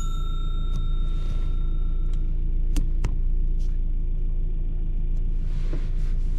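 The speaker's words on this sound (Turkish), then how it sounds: "ben motoru çalıştırayım" A car's engine idling with a steady low rumble and hum in a newly bought car, constant and close, with a few faint clicks and ticks over it and no talking.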